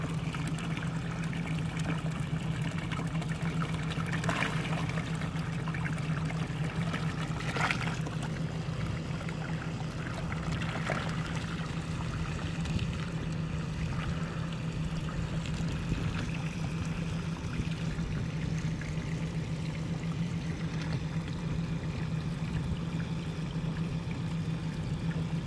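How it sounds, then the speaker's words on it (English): Water gushes steadily from a gravity-fed inch-and-a-half pipe, a constant loud rushing pour that continues unbroken throughout with no talking. "I love the water pressure that comes out of a gravity-fed inch and a half"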